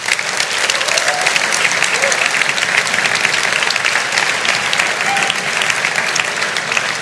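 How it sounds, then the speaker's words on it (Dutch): Loud, dense applause from the audience at the Dutch Podcast Awards 2023 ceremony, honoring the podcast makers, sustained evenly throughout with a crowd murmur underneath. "het eerste applaus van vanavond voor de makers is"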